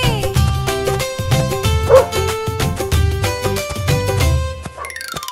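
A cartoon dog in a Hindi children's cartoon gives repeated yappy barks over bright, bouncy music.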